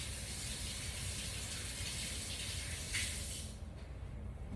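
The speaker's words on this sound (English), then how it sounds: "rinse off my hands" Tap water gushes steadily into a kitchen sink while hands are rinsed, a constant close hiss that thins out and quiets near the end.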